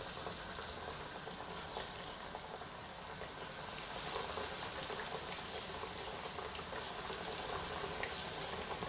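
Chicken fillets sizzle in hot oil in a pan, a steady crackling hiss with scattered pops that runs unbroken and fairly quiet throughout, with no talking.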